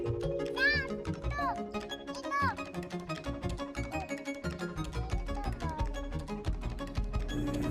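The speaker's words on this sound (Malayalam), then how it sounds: "ഒരു പൂച്ചയെ കണ്ടിട്ട് ആ പൂച്ചയുടെ പുറകെ പോയതാണ് യാമിക്കുട്ടി." A cat meows a few times in a park during an evening outing, its short rising cries standing out over steady background music and crowd noise, with someone speaking nearby.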